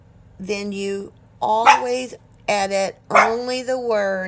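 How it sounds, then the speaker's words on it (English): Dogs barking in a home, several sharp, loud barks and yips in quick bursts close by, mixed with a person speaking over them. "I'm sorry about my dogs."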